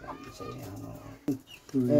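A rooster gives a few short, close clucks amid other fowl sounds, with people talking nearby.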